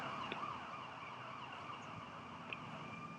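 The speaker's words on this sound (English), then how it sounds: "There's hella sirens going on around these parts right now." Faint, distant sirens wail steadily over a low background hum, with no voices.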